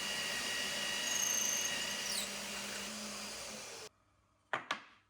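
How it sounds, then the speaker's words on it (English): A power drill whirs steadily for several seconds drilling holes in wood for a clamp storage rack on a wall cabinet door, then cuts out; two sharp knocks of wood follow in the quiet. "So that's the holes drilled."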